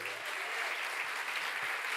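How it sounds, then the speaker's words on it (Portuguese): Congregation applauding steadily during a worship service, a dense, even wash of clapping sustained at constant level throughout. "Você pode aplaudir a Ele?"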